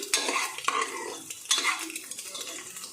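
Egg rice is stirred and mixed in a frying pan, giving repeated scraping, rustling spoon strokes over a soft sizzle, with sharp clinks at irregular intervals and no talking.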